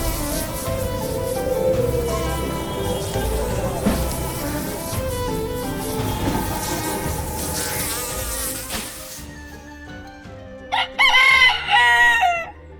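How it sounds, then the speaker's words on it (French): A cartoon rooster crows loudly at 5 a.m., in the middle of the night: one brief, piercing cock-a-doodle-doo near the end that bursts out after a stretch of busy background music. "Il est même plus fort qu'une alarme."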